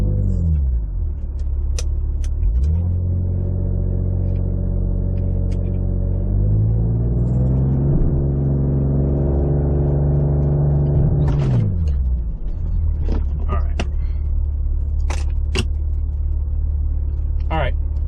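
Ford Explorer ST engine revving up on launch control, rising to a held high rev, wavering, then dropping back to idle; loud and close inside the cabin, with a few clicks and knocks around it.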